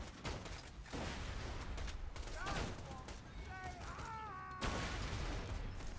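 Rapid gunshots and pops in the video game Borderlands 2 clatter almost continuously, mixed with short chirping electronic tones and a possible faint voice in the background.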